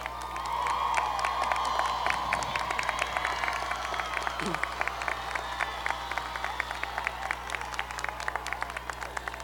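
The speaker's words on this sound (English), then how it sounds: "Graduates, please join me in a great round of applause" Dense applause from a large crowd at a university commencement ceremony at CSU Chico, honoring faculty and staff, steady and sustained with a brief voice at one point.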